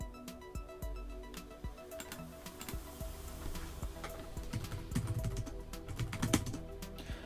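Keys clatter in a quick, uneven run on the compact keyboard of an Orange Pi 800, a Raspberry Pi 400-style computer, tapping close up and steady throughout.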